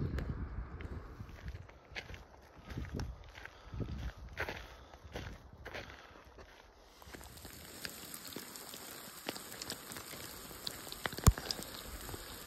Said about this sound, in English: It's actually little hail balls or sleet.